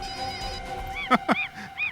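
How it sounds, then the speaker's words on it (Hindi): A phone ringing from somewhere under the ground, heard as a few muffled warbling ring bursts with short sharp knocks in between, close by and over a low background hum. "Phone sir, phone. आवाज जमीन में से आ रही है।"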